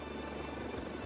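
A steady, dense navy helicopter rotor and engine roar during takeoff or landing on a frigate, loud and continuous throughout, with no voices.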